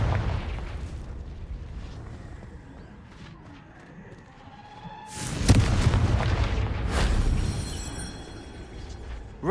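Deep booming blast of the Confringo spell striking rocks in Hogwarts Legacy, a loud explosive burst rising over a low rumbling game ambience, followed by a second swell of crashing debris.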